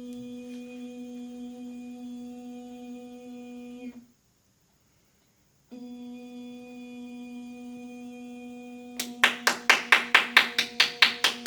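During a back-disc therapy session, hands clap sharply about a dozen times in a quick, even series, close and loud over a steady electronic hum that drops out briefly beforehand.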